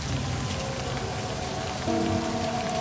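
Steady rain in the video game Livber: Smoke and Mirrors, a dense continuous hiss of drops on surfaces with a low rumble beneath, loud and unbroken, no voices.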